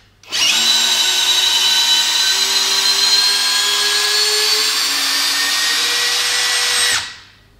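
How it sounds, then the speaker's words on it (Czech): A Festool CXS 18 or TXS 18 cordless drill-screwdriver drives a large wood screw, giving a loud, steady high-pitched motor whine for about six seconds that shifts slightly in pitch under load before spinning down. "takže když to vemu takhle velký vrut, takovýhle malý šroubovák"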